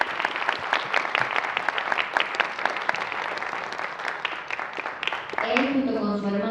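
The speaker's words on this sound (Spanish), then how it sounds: "Así que por favor, ayúdenme un aplauso." Audience applause at a talk on film sound design, a brisk run of individual claps that holds steady, then a voice starts speaking over the tail end.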